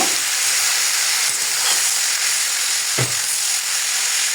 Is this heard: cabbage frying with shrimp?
yes